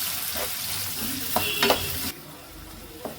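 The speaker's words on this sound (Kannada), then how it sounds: "ಇವಾಗ ಇದನ್ನು ಈರುಳ್ಳಿನ ಕೆಂಪಗಾಗೋವರೆಗೂ ಹುರ್ಕೊಳ್ಳೋಣ" Chopped onions and green chillies fry in a pan with a low, steady sizzle while a spoon scrapes and stirs now and then. The sizzle drops off after about two seconds, leaving a quieter bubbling tail, and nobody talks.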